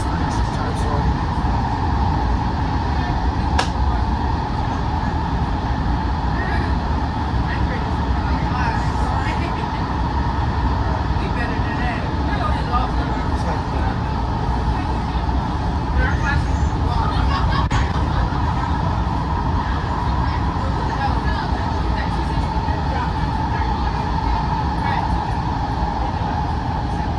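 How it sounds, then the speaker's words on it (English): A WMATA Green Line 6000-series metro train rides along with a loud, steady roar and rumble from start to finish, and faint voices sit under the noise. "The train's loud."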